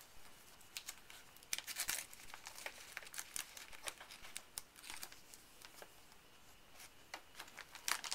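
A strip of paper towel is torn and handled at close range, faint crinkling and tearing rustles in short irregular bursts over a quiet background.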